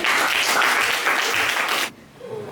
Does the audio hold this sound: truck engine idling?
no